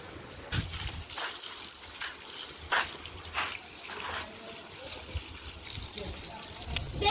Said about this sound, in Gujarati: તો ઉપરથી પાણી આવે છે